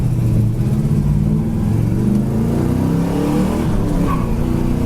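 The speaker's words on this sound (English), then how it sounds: "Second gear scratch. 3rd gear scratch. Shift it right into 4th." A 1972 Chevrolet engine revs hard and steadily as it shifts up through the gears, its loud, continuous drone rising and dropping in pitch with each change.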